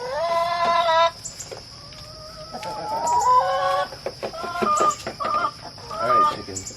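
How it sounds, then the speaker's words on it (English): A chicken clucks and squawks loudly up close in a series of sharp, uneven calls with brief pauses, the bird sounding agitated. "Alright, chicken. You gotta go."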